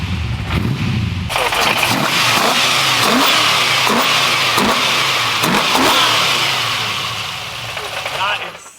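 A modified BMW E46 engine revs hard and repeatedly, loud and close, with sharp throttle blips and pops through the exhaust, while people's voices sound faintly underneath.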